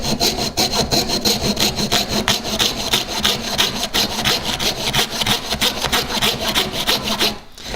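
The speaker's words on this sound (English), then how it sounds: "I like cutting off the excess, so I'm probably gonna cut off like that, and then cut off like that, and then just cut off the extra pieces of wood." A hand saw cuts through skateboard wood in steady, rhythmic back-and-forth strokes, loud and close. The rasping continues almost without a break and stops abruptly near the end, with no talking.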